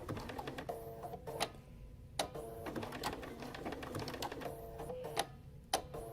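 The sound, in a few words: sewing machine stitching a quilt block slowly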